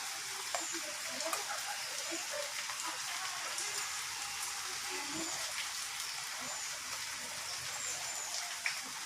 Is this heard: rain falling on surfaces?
yes